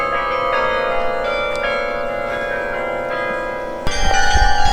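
Church bells of Saint Joseph's Oratory in Montreal ring out a steady melodic tune, sustained tones overlapping continuously, with a louder, fuller burst of ringing near the end.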